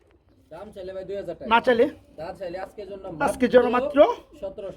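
Bombay racer pigeons coo softly in the background at a pigeon seller's while someone talks steadily over them, his voice dominating throughout.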